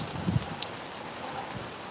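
Steady rain hissing throughout, dense and even, with a couple of brief louder drops or knocks early on; no one speaks.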